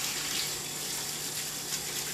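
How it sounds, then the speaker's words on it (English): Tap water runs steadily from a faucet during quick handwashing at a kitchen sink, a continuous close hiss with a faint low hum beneath and no talking. "Wash your hands really quick, really good though."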